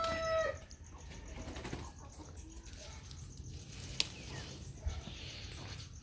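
Native chickens cluck and call in a backyard coop at moderate distance, scattered short clucks over a quiet outdoor background with a brief sharp sound partway through.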